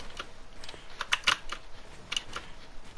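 Quick keystrokes on a computer keyboard during Fortnite building, scattered sharp clicks with a small cluster in the middle, close and fairly quiet, no talking.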